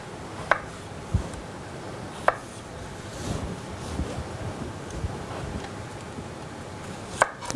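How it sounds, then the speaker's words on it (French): A knife cutting mini pattypan squash into quarters on a board, with a few sharp, separate chopping knocks spaced over several seconds against a soft, steady background rush. "Les mini pâtissons tout simplement, on va les couper en 4."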